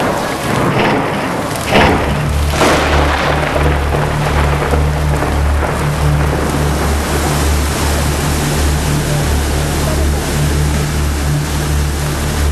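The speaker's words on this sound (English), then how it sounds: "Unprecedented rains in the mountains within a matter of days caused havoc in the mountain regions and flooded the plains" Heavy monsoon rain pours down in Pakistan's flooded mountain region, a loud, dense, continuous roar with a deep rumble like thunder running beneath it throughout, with no voices.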